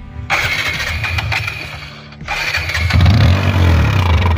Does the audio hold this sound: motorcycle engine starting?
yes